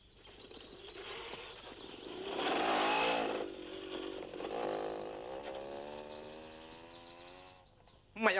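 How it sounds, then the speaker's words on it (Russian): A car engine rises and falls as it drives, revving up loudly then settling into a steady hum, with a sharp noise at the end. "Моя машина едет"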